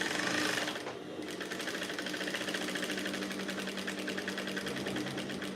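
Sewing machine stitching a dart on a blouse bodice, a steady rapid mechanical whirr of even stitches running close and continuous after a brief pause at the start.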